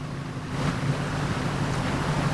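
Water from the Borzhava river spilling its banks and flooding a road between Velyki Komiaty and Shalanky in Zakarpattia, a steady broadband rush of flowing floodwater with wind noise, continuous and fairly loud throughout, no voices.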